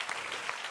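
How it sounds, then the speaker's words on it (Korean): A congregation at a church prayer meeting claps. The applause is brief, soft and steady, with many hands blending into a diffuse patter. "이 사람들에게 박수 합시다."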